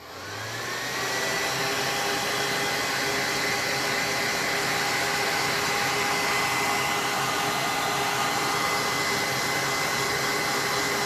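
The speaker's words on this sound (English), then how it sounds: "don't mind my blow dryer, guys" A handheld blow dryer dries wet black paint on a whimsical feather painting, giving a loud, continuous whirring hum that starts up and holds steady with no talking.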